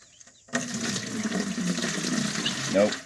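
A clay and water slurry is poured, its steady splashing, trickling liquid beginning abruptly after a short quiet lead-in and continuing to the end, loud and close, with a brief voice near the close.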